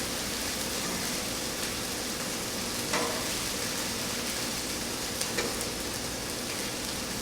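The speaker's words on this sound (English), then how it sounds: "I'm just stirring my vegetables around occasionally to make sure they're in that nice, even layer on the bottom of the skillet" Vegetables fry in a skillet while being stirred now and then with a metal spoon: a steady, even sizzle fills the whole stretch, broken by a few faint scrapes and clinks.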